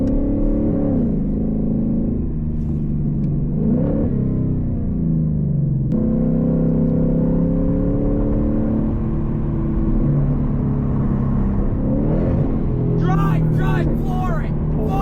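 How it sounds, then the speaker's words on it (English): A 2024 Mustang GT accelerates hard from inside the cabin, engine tone climbing in rising sweeps and dropping at shifts, loud and close, with a person talking over it. "Pull for you guys real quick."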